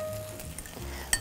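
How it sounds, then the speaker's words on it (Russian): Bread topped with a cheese and egg mixture placed in a hot frying pan, giving a soft close sizzle with a brief clink of utensil against the pan near the end. "выкладываю на сковородку как раз вот этим самым сыром с яйцом"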